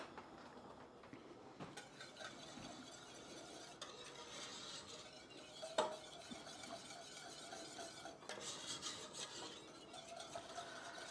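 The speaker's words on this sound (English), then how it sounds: "So I'm just stirring this till it goes thick and creamy." A whisk stirs a thickening macaroni and cheese sauce in a pan, giving a quiet, continuous scraping and swishing with small clinks, heard close and alone.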